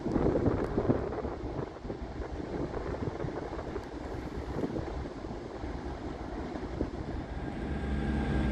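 A Scotrail class 43 HST set, 43034 top and tail with 43141, departs in the distance at Aberdeen station, giving a low, steady rumble blended with wind across the whole stretch.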